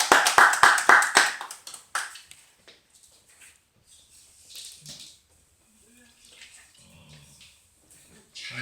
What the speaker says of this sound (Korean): 하나님께 박수 올려드리겠습니다.